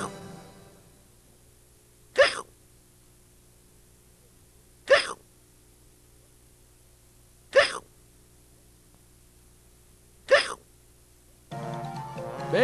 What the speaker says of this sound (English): Crazy hiccups.